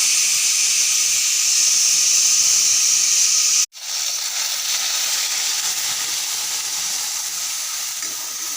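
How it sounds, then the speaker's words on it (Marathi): A pressure cooker hisses steadily while cooking whole masoor lentils, a loud, continuous steamy rush that drops out for a moment partway through and then carries on. "ही अख्खा मसूर मी कुकरला लावून घेणार आहे शिजवून"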